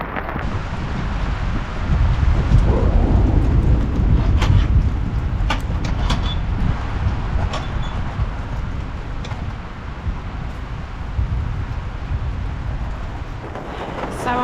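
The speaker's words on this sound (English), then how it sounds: "as you can hear, it is absolutely chucking it down with rain. It's so noisy in here." Heavy rain pounds steadily on the plastic roof of a polytunnel, a dense, loud roar lasting throughout with occasional sharper drips and taps, no voices.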